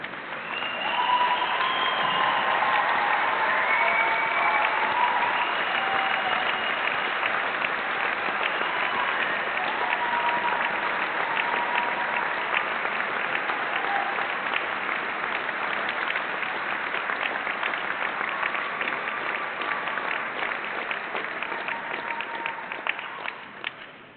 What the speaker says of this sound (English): can all the graduates please stand and turn towards where your supporters are sitting and applaud them